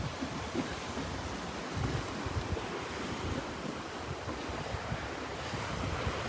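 Ocean surf on the beach at Wiggins Pass in North Naples, Florida, a steady broad wash of waves with heavy wind rumbling against the microphone, continuous and even throughout.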